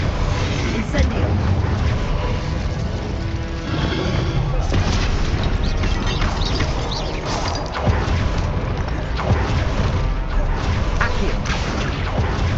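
Incendio fire spell cast in the video game Hogwarts Legacy, loud booming bursts and crashes repeating amid busy combat noise, with voices mixed in.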